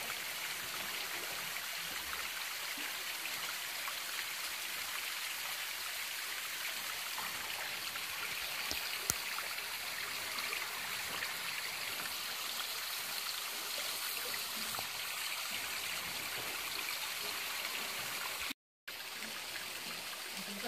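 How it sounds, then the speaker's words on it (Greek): Clear water flowing at the Archangel holy spring on Thasos makes a continuous soft rushing trickle, steady and fairly quiet, with a brief cut-out near the end and no voices. "Καθαρό είναι το νερό."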